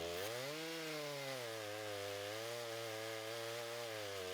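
A chainsaw running an Alaskan mill rips through a giant maple log into slabs, a steady loud buzzing drone with a slight pitch dip early on, continuous and alone.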